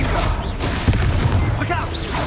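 A Confringo blasting spell explodes in Hogwarts Legacy: a sharp, booming blast punches through dense, continuous battle noise while voices talk over the fight.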